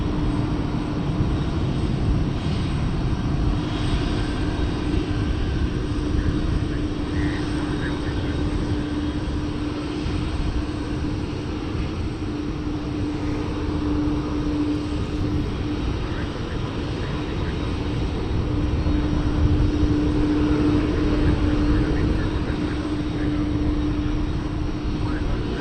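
An MD-11 airliner at Dallas Fort Worth International Airport gives a steady, rumbling engine roar with a low droning tone that persists throughout and swells slightly toward the end, heard from some distance.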